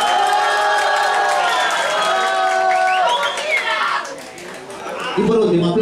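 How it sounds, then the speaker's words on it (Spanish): Crowd at a televised talent competition cheers and claps for a contestant, high excited shouts over a bed of applause, loud at first, dipping briefly before swelling again. "Aplausos también para Agustina Germano"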